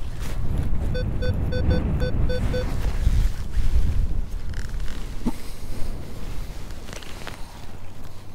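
Wind gusts buffet the microphone outdoors in a UK field during metal detecting, a steady low rumble of blustery noise with a soft whistling hum early on and faint rustles.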